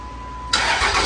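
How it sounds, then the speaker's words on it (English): A Cummins diesel truck engine cranks briefly and then catches, settling into a loud, steady running rumble with no one speaking. "and now we're going to start it and make sure it works."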